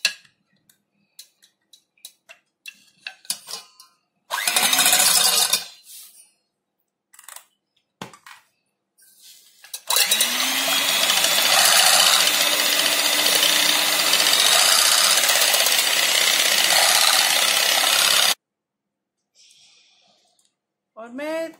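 An electric hand beater whips eggs with powdered sugar for a mango cake, coming in as a short burst and then a long steady whirring run. Clicks and pauses separate them.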